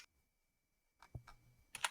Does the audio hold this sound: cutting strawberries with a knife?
no